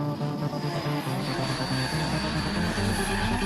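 Renault Twingo converted to run on an aircraft engine, a loud steady roaring drone with a high whine on top, continuous and unbroken for the whole few seconds.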